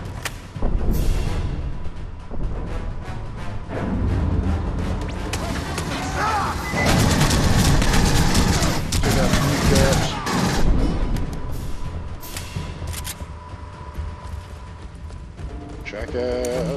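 Sustained enemy gunfire in Aliens: Colonial Marines, dense loud bursts and booms continuing for a long stretch amid combat noise, with people talking over it.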